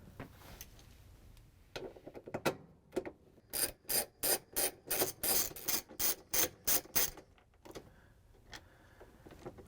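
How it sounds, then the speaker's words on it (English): A ratchet with a 3/8-inch socket and extension works bolts loose from a GE washing machine, giving a quick run of about a dozen loud, rhythmic clicking strokes after a few scattered scrapes, close and alone. "We're going to use a 3/8" socket with the ratchet and the extension to take out the bolts."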